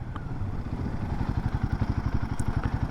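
A Royal Enfield Himalayan 450 motorcycle braking hard from 60 on the front brake, its single-cylinder engine thumping close up in a steady, pulsing rhythm that grows choppier as it slows.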